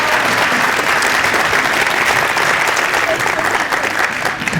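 An audience at a beginning band demo night gives a big round of applause, continuous loud clapping from many people that holds steady, with faint voices mixed in.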